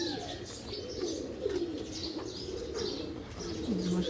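A female Sakhi Teddy pigeon cooing close by, repeated soft throaty coos and low warbling calls in a quiet loft, with light chirps from other birds around it.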